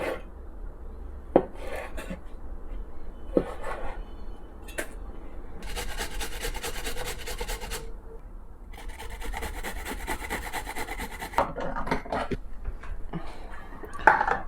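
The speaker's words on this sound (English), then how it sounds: "we're gonna chop up the tomato" Repeated knife strokes chopping tomato on a cutting board, with scraping and rasping bursts between them, close up with no talking.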